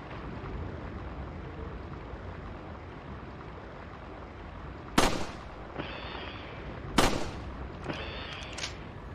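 Compressed PS2 version of a Resident Evil game scene: a steady wash of watery noise runs throughout, broken by two sharp, loud gunshot cracks around the middle with fainter follow-up clicks and thuds.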